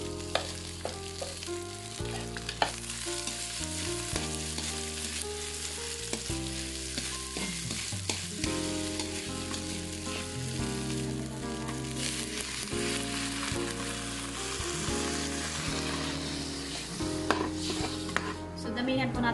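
Corn kernels sizzle and are stirred in a pan while making corn soup, a steady frying hiss with occasional scrapes running alongside background music.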